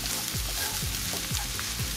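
Chili powder frying in a little hot oil, a close, steady sizzle with soft scraping stirs recurring about every half second.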